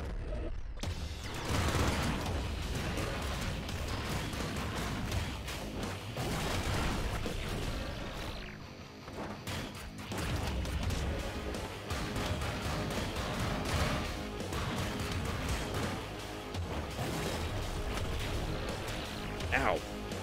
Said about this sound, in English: Let's grab the triple machine gun